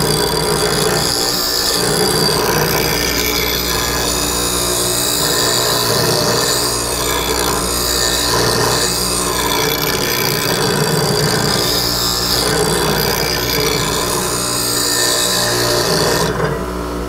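A woodturning tool's bevel being ground on a grinder, a loud continuous motor whine with steady abrasive grinding noise throughout, close and uninterrupted.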